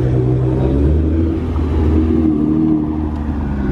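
A Nissan GT-R supercar leaving a Dallas cars-and-coffee style meet gives a loud, close, steady low engine rumble that holds throughout without pause, with no voices.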